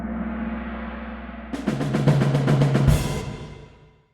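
A drum fill in a cinematic film score rolls in as a rapid run of hits over a low sustained pad, builds to a loud accent and then fades out.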